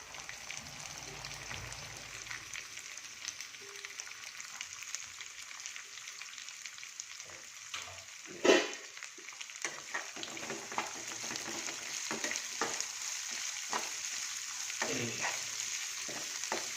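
Green chilies and onions fry in a pan, giving a soft, continuous sizzle with scattered crackles and one sharper clatter midway as the pan is stirred, fairly quiet and close.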